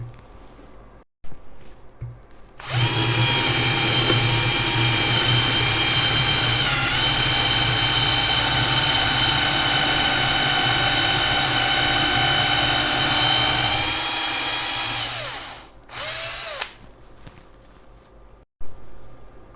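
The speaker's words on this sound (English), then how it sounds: "It took only seconds for me to drill into this." A loud, steady motorized whine with a constant pitch from a Bosch GSR 120 Li cordless drill drilling runs for about twelve seconds, then winds down and stops, followed by a short burst.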